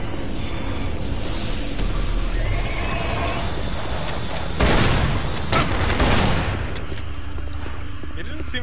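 Gunfire from an enemy in Doom 3 on a Mars base, dense bursts of shots over a steady rumbling background, with louder blasts around the middle, while a voice talks faintly underneath.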